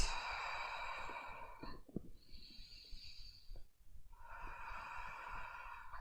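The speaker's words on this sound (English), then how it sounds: "Take some deep breaths." Deep breathing during a yoga stretch, with two or three slow, close breaths whose soft airy rushes swell and fade over a faint background hiss.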